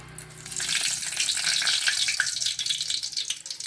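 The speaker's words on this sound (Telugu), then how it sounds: "ఇప్పుడు ఎండుమిర్చి వేద్దామండి." Dried red chillies and curry leaves crackle and hiss loudly in hot oil, a dense close frying sizzle that swells and then flutters, with no voices.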